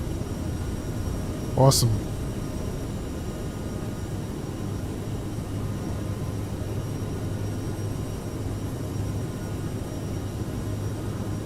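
An Aerosoft CRJ jet climbs after takeoff in Microsoft Flight Simulator with a steady, even engine drone and airflow throughout. A short voice is heard early on.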